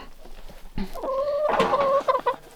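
Chickens cluck and call in a farmyard on a winter morning, a run of close, loud, warbling clucks after a short quiet start, with a few shorter bursts trailing off at the end.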